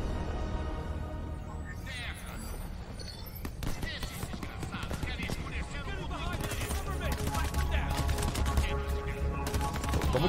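Gunfire in the video game Crackdown 3 during co-op campaign play, rapid bursts of shots and sharp impacts over a dense, busy game mix, continuing steadily with rising intensity.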